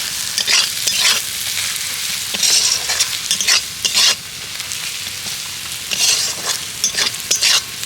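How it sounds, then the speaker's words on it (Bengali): Cumin and garam masala powders sautéing in a pan, with a steady frying hiss and repeated scraping stir strokes coming in bursts, close and fairly loud, no talking. "এই মশলাগুলো দিয়ে ভালো করে একসাথে কষিয়ে নেব"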